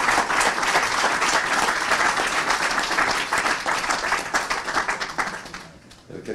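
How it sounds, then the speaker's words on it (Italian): An audience applauds Giuseppe Valditara at a book presentation, a loud, dense, sustained burst of clapping that thins and fades toward the end. "un applauso a Giuseppe sia assolutamente"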